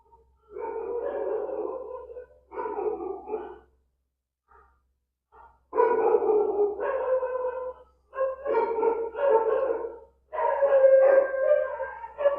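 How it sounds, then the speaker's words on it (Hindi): A dog howling and barking in drawn-out, whining bursts with short pauses between them, fairly close and loud, with a faint low hum underneath. "कुत्ते ने अटैक मार दिया लगता है"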